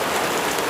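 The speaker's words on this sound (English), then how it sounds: "The rain was pouring relentlessly" Heavy rain pours down steadily in a dense, loud, even hiss of drops on surfaces, with no break.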